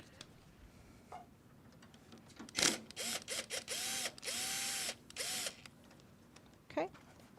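Power drill fitted with a Phillips bit removing a hose clamp during cabinet maintenance, running in several short whirring bursts of rising and falling pitch, with a clack and brief pauses between bursts in a quiet workshop.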